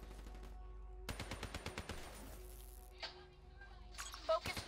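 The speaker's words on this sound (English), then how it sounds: "Focus fire on the cooling rods in the tower surrounding Diaz." Rapid gunfire from a Black Ops 3 campaign battle, a burst of quick sharp shots followed by scattered impacts and effects, with a voice talking over part of it.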